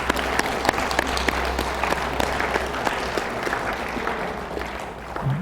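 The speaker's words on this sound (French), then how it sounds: "Maybe we can give a clap to Jesus now." Audience at a religious retreat in Paris claps together, a sustained wash of applause with scattered sharper individual claps standing out, moderately loud and steady throughout, with a low hum underneath.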